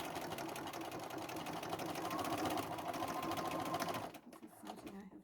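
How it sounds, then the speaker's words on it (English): Sewing machine stitching an upcycled bag, a steady dense rapid whir running close and loud for about four seconds, then stopping into quieter handling sounds. "I'm just going to sew this one a couple more times."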